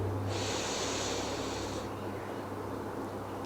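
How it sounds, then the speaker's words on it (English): A deep, steady inhalation taken during a slow breathing exercise, a broad airy rush lasting about a second and a half, then easing away into quiet room tone. "Inhale"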